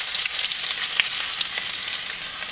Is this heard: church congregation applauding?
no